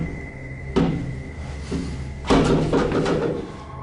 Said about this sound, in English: later he hears regular banging noises in the hallway